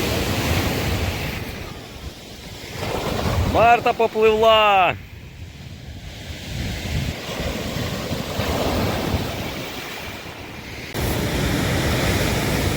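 Large storm waves on the sea crash and roar in a loud, continuous wash of surf noise with wind buffeting the microphone, while people talk and shout over it.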